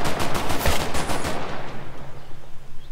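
Rapid gunfire in the real-time strategy video game The Last Haven: a dense, loud volley of repeated shots that tapers off over about a second and a half, leaving a low hum.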